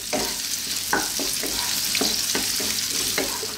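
Chunky white onions tossed in a hot pan on high heat, a continuous close sizzle broken by several sharp scraping stirs and tosses spaced through the clip, with no voices.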